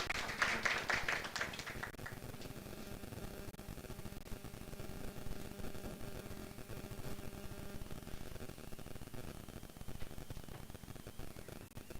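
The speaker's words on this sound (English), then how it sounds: "Can we clap hands for him as he's approaching?" An audience at a symposium claps as a presenter approaches, a dense burst of applause lasting about two seconds before fading into a steady room hum.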